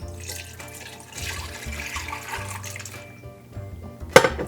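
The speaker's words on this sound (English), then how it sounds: "We'll throw our strainer on there. And we're just going to strain out those cherry pits." Roasted cherry mixture poured through a strainer, a close, uneven wet splashing and trickling that rises and falls for several seconds, ending with a sharp metallic clink.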